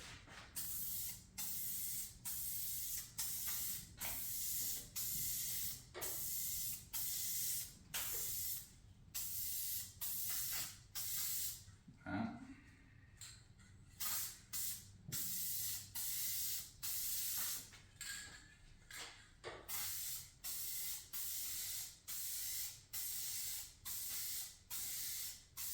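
Aerosol spray paint can coating a hood scoop for a 2019-or-newer GMC Sierra 1500, a close, steady hiss broken into rapid repeated bursts over nearly half a minute, with faint handling noise in the gaps.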